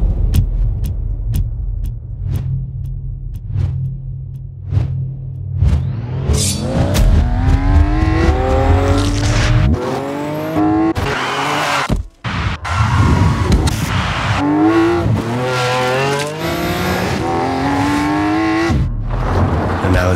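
In Need for Speed World, a Lamborghini race car revs up in a string of short engine blips, then accelerates hard through climbing, roaring gear changes. It stays loud and close and ends with a brief drop before the engine roars again.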